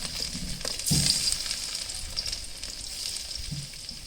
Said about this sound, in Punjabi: ਆਪਣਾ ਘਿਓ ਗਰਮ ਹੋ ਚੁੱਕਿਆ ਤੇ ਆਪਾਂ ਪਾਵਾਂਗੇ ਲਸਣ ਇਹ ਚ ਪਹਿਲਾਂ